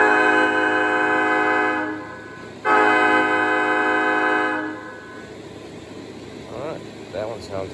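Aristocraft E-8 model locomotive fitted with a Railpro sound module, giving two long, loud multi-tone horn blasts with a brief break between, followed by a quieter rumbling idle with soft mechanical pulses.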